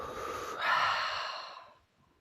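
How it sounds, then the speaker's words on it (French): An outdoor yoga session's guided breath: a single slow, airy inhalation through the nose with raised arms, then a softer exhalation through the mouth, close and alone, fading to quiet. "On va inspirer en levant les bras par le nez et on va respirer par la bouche."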